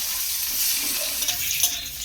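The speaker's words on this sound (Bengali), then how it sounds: "পেঁয়াজটা দেখুন বেশ ভাজা হয়ে গেছে" Sliced onions fry in a pan with a steady, close sizzle and a few soft pops over a brief stretch.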